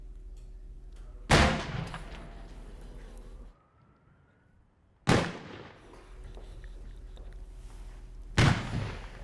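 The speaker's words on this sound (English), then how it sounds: "the U.S. Consumer Product Safety Commission demonstrated fireworks hazards on mannequins and watermelons" Three loud explosive bangs from fireworks ring out several seconds apart, each sharp crack followed by a rumbling decay, with faint background noise between them.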